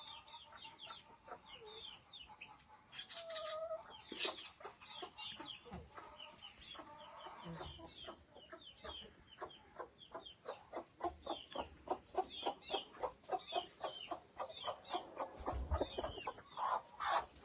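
Hens on a small farm cluck steadily and close by, with a dense run of short, rhythmic clucks and calls that build in loudness toward the end.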